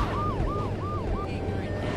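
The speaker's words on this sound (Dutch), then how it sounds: "Ja, een brandweerauto." Fire truck siren in the video game GTA 3, four quick rising-and-falling wails in a row, fairly close, over a low engine rumble.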